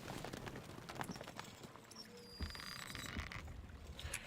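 Horse archers galloping in the Stronghold Crusader strategy game, a steady run of hoof clip-clops with scattered clinks and thuds over a dense, busy game soundscape, no speech.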